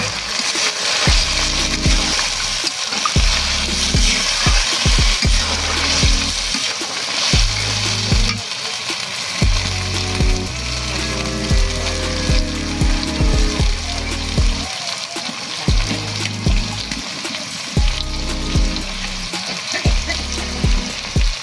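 Goat leg sizzling and frying in a pan with water as it cooks down, a continuous loud hiss broken by repeated scraping and stirring strokes against the pan in an uneven rhythm, no talking.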